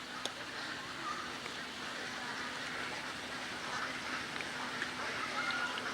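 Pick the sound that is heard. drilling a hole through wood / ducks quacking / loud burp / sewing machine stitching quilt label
ducks quacking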